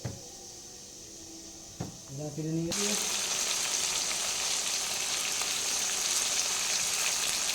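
Prawns and vegetables hit a hot pan and fry, a short quiet lead-in with a few clinks, then a sudden steady sizzle that carries on loud and even.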